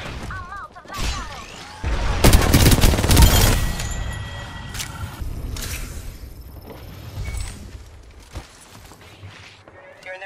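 Rapid bursts of gunfire in a battle royale video game, sharp cracks that cluster into a loud, dense volley early on, then thin into scattered shots among softer in-game sounds.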